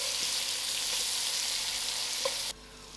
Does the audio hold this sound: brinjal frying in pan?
yes